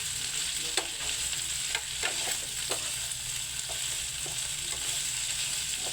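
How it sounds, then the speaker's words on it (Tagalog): Onion, garlic and chili peppers sizzle steadily in a pan for a vegetable chop suey, with a continuous hiss broken by several clinks and scrapes of stirring. "Maglulunod na po tayo ng ating mga sangkap, bombay, saka bawang mga kananay at saka labuyo."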